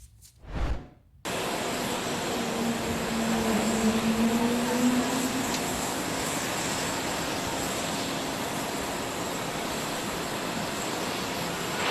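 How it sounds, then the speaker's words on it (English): A French presidential airplane lands in Vietnam, its engines roaring steadily and loud after a brief thump at the start, a sustained broadband drone with a low tone gliding slightly. "So this is the French plane landing in Vietnam."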